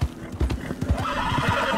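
Horse hooves clip-clop at a steady trot while riding through the world of Red Dead Redemption 2, the rhythmic thuds close and clear with faint game ambience beneath.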